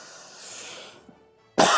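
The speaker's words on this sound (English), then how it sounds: "it's making me cough." A man's single sharp, loud cough bursts out close to the microphone near the end, after a stretch of faint hiss and low breathy noise.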